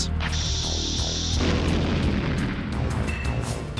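Bomb blowing open a bombable wall in Paper Mario, a loud, sustained booming rumble that fills the moment, with a high game tone fading out early and no talk.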